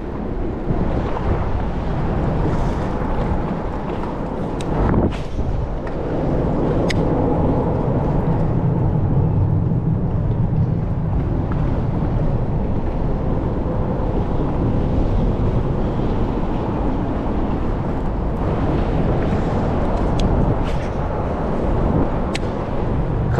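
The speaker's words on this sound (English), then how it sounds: "it's dang windy over here" Strong wind on an Alabama lake while bass fishing buffets the microphone in continuous rumbling gusts, with occasional sharp knocks and faint water sounds beneath.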